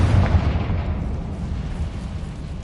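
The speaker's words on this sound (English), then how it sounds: "Confringo." A Confringo blast spell explodes in Hogwarts Legacy as a heavy, booming burst that hits hard at once and then rumbles and fades over a couple of seconds.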